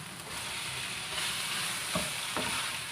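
Boiled pig head pieces fry in a pan with a dense, steady sizzle, with a couple of stirring scrapes near the end.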